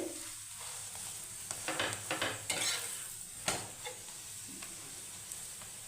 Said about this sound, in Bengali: এবার তেল দিয়ে ভেজে নেবো